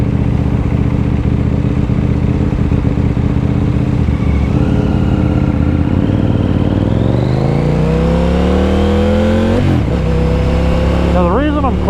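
A 2020 KTM Duke 890R motorcycle revving loud and close, its engine pitch rising and falling through clutch-assisted gear changes, with quick throttle blips near the end.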